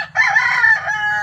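A rooster crows once, loud and close, in a single drawn-out call of just over a second in the Philippines at night.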